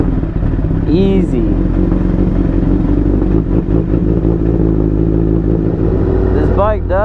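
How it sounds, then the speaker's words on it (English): A Honda Fireblade sport motorcycle engine runs loud and close, with a steady rumble throughout and a brief spoken word partway through. "Will she fire up?"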